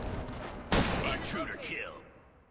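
A single sharp gunshot cracks out in the video game Deadlight, loud and close, followed by a fading tail and some talking.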